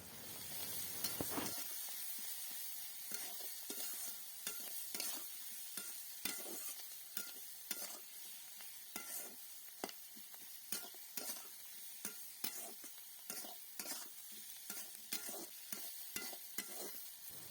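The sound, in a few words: frying and stirring onion, garlic, ginger paste and spices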